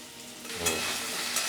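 Potatoes frying in a pan for a potato chorchori curry, a short crackling sizzle that swells as a stirring scrape joins in.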